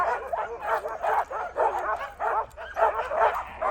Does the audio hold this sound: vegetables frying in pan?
no